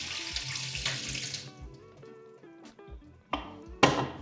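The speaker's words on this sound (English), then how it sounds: "Now we need to open this, pour this water out." Water pours and splashes out of a film developing tank in a steady gush, then thins to drips and a few clinks before a final short splash.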